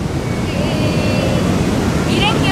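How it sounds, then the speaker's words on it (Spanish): Ocean waves roll onto the beach at Ixtapa around sunset, a steady loud wash of surf mixed with wind rumble on the microphone, continuous throughout with faint high tones near the end. "Me encanta el mar de Ixtapa."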